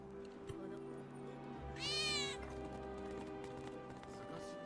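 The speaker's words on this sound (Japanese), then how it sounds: "近くに行くと猫の声が聞こえて" In Final Fantasy VII Remake, a cat hidden near a T-junction on the road from the station to Seventh Heaven gives a single clear meow partway through, over quiet game ambience and a low background hum.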